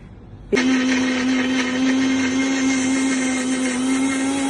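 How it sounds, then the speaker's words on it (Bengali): A kitchen blender starts abruptly and runs steadily, grinding tomato, onion, garlic, green chili and coriander leaves into a paste, a loud, close, continuous whirring motor drone with no talking. "আমি এখানে টমেটো আর পেঁয়াজ আর রসুন আর একটু কাঁচা লঙ্কা পেস্ট করে নিচ্ছি আর ধনেপাতা।"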